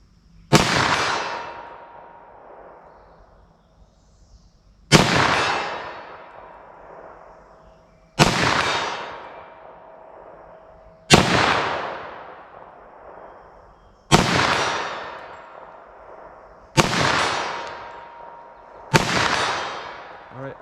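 A .40 S&W handgun fires about seven single shots at steel targets, spaced a few seconds apart, each a loud sharp crack with a ringing decay and no talk between.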